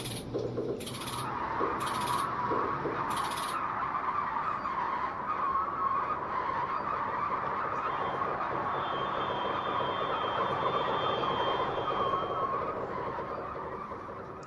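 Brakes squeal in a long, loud, steady screech as an MAT 64 train slows in Train Simulator Classic, joined by rumbling wheels, after a few brief high chimes at the start, fading slightly at the end.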